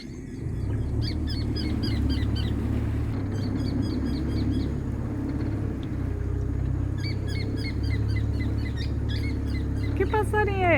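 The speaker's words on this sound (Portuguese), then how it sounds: "Que passarinho é esse cantando?" Bird song by the meeting of the Miranda and Salobra rivers, heard from a boat; repeated chirping phrases ring out over a low engine hum while people talk.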